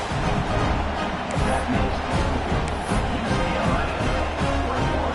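A college football stadium crowd at Cal vs UCLA buzzes after a touchdown, a dense, steady roar of distant voices with no single cheer standing out.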